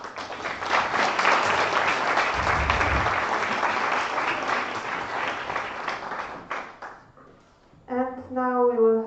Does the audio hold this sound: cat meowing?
no